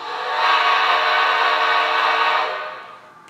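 A steam locomotive whistle from a model train sound decoder blows in one long, loud, breathy blast that swells quickly, holds, then fades away.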